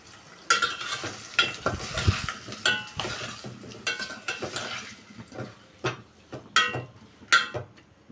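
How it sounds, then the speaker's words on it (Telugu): Tomato pieces with turmeric and a spoon of salt cooking in a pan for a Telugu munakkaya (drumstick) tomato curry, with repeated stirring scrapes and utensil clinks over a soft sizzle, close and moderately loud, no talking. "టమాటా ముక్కలు వేసిన తర్వాత పసుపు, ఒక స్పూన్ ఉప్పు వేసుకొని మగ్గనివ్వాలి."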